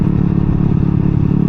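A Honda Ruckus scooter engine idles steadily and smoothly close by, a continuous low, even putter with no revving or talk over it.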